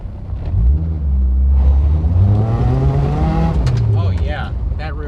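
A K-swapped all-wheel-drive Honda CR-V drives on gravel, its engine droning and rising in pitch as it accelerates, with rumble and crunching tire noise, loud and close from inside the car.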